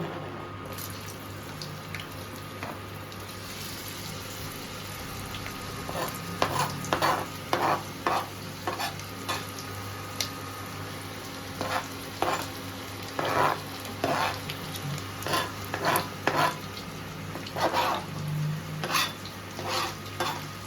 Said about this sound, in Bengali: গরম হয়েছে একদম। আর পেঁয়াজটা ছেড়ে দিচ্ছি।